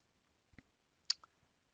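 A computer mouse clicked at a desk, a few faint, sharp clicks in quiet, one slightly louder than the others.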